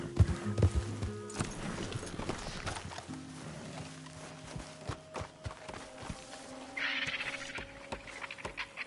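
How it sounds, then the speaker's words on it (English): Horse hooves clip-clop at a walking pace on the ground in the Red Dead Redemption 2 video game, moderately quiet and uneven, mixed with soft ambient game sounds. "have been taking good care of that horse."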